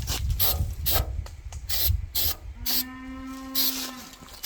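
Protective coating sprayed onto cattle panels outdoors in wind, a series of loud hissing spray bursts in quick pulses, with some wind rumble and a brief tonal squeak near the end.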